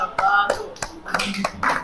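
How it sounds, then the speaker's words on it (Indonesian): Applause from a class audience after a group presentation in a teacher-training session, a short burst of scattered hand claps with uneven taps rising and falling. "tepuk tangan buat kelompok 2"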